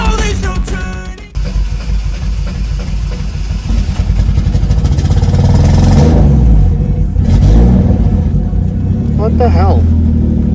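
A Mercedes W203 with a turbocharged M104 engine that has not run in a while rumbles and revs, loud and close, mixed with music and a voice over it.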